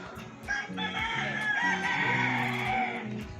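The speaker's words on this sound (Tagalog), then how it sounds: "Ang ingay ng mga manok." Chickens crowing and clucking nearby, several overlapping calls filling the whole stretch with steady, noisy farmyard chatter.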